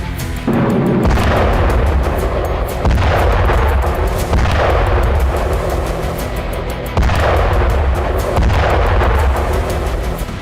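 A Russian MLRS rocket artillery strike on a Ukrainian military base brings loud, heavy booms that roll on continuously, rising in several waves of rapid blasts.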